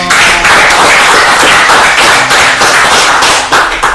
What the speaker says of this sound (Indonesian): minta tepuk tangannya dulu dong